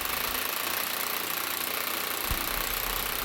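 Hammer drill boring holes into a bathroom floor to mount a toilet bracket; a steady, loud, continuous grinding roar fills the short stretch without pause, close up and with no talk.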